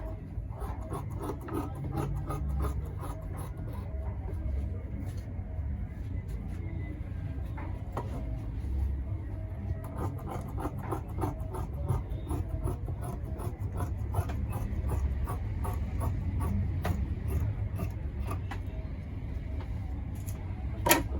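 Shirt front fabric being cut out, a steady close scraping and rasping of blades through cloth that continues without a break, with faint ticking snips running through it and no talking.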